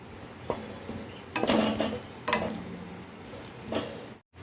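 Potatoes coated in biryani masala are stirred in a frying pan, giving several bursts of scraping and sizzling spaced a second or so apart over a low continuous fry, with no talking.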